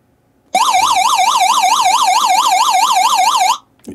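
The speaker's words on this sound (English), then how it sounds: "a distress signal that puts out a siren and flashes red and blue" A Raddy SL10 emergency radio's panic alarm blares a loud, rapidly warbling electronic siren for about three seconds, starting and stopping abruptly, close and piercing.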